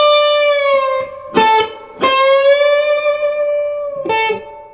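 An electric guitar plays a slow, sustained lick with bends and vibrato. A few picked notes sound in clear succession.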